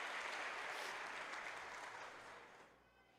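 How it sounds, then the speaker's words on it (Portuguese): A large church congregation claps steadily and loudly, the applause gradually fading toward the end. "Vamos aplaudir ao Senhor"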